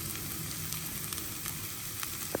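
A tempering of betel leaf powder with ginger garlic paste, mixed with pepper and coriander, frying in a pan with a dense, continuous close sizzle and faint crackles.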